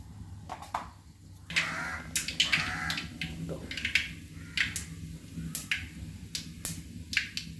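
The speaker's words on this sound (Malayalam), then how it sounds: "കടുക് പൊട്ടി വന്നിട്ടുണ്ട്." Mustard seeds crackle and pop in hot coconut oil on a wood stove, a scatter of sharp, irregular snaps under a low steady background hum.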